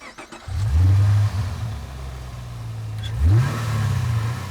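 A 585-horsepower manual-transmission car accelerates hard, its engine droning loud and low, then dipping as it shifts gear and climbing again in a second rising pull, with no voices.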